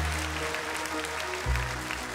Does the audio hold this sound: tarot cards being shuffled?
no